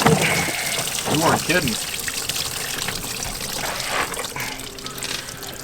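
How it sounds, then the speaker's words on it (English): Coolant pouring and splashing out of the disconnected lower radiator hose of a 2004-2008 Acura TL, a steady close watery trickle and gush, with a voice speaking briefly over it. "this is where the majority of the fluid's gonna come out"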